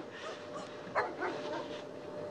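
Dogs yelp and bark a few times at a middle distance, partly under steady background noise, with no clear talk.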